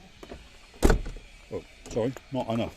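A Mercedes 126 car door shuts with a single solid, heavy thump in a workshop, heard close and sharp, with someone speaking briefly before and after it.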